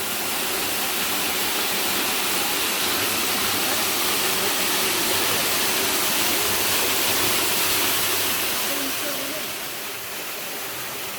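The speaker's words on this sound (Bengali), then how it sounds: "ঝর্ণার পেছনে দাঁড়িয়ে আছি এখন" Roaring waterfall at Garden of Caves in Cherrapunji, Meghalaya, heard from a spot behind the falling water: a loud, dense, unbroken rush of spray and crashing water that dips slightly near the end.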